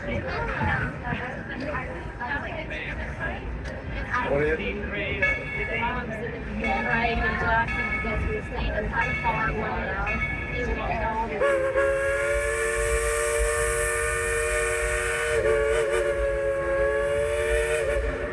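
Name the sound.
Dollywood Express steam train running with whistle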